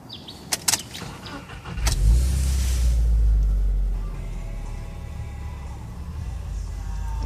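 An entry-level Subaru WRX started with a key: a few sharp clicks, then the engine catches with a deep rumble and settles into a steady, close idle.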